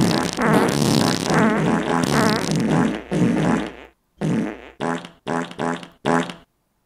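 A person imitates a fart with their voice: several long buzzing, sputtering blasts are followed by a series of short separate bursts, all loud and close.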